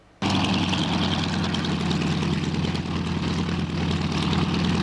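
A propeller plane engine roars steadily and loudly at close range, starting abruptly and holding a constant droning rumble throughout.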